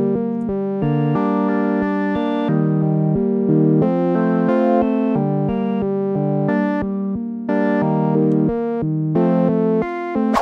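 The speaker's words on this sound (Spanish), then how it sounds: "Para la intro ocupé el hoop 8 de Arturia y suena más o menos así." A reggaeton beat intro played on an Arturia synth with no effects added: repeating rhythmic chord stabs with a steady bouncing pulse, clear and upfront throughout, with no voices.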